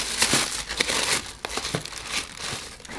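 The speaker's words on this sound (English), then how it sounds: "wrapping paper" Wrapping paper from a luxury boutique box crinkles and rustles continuously at close range, with sharp crackly bursts of handling throughout and no speech.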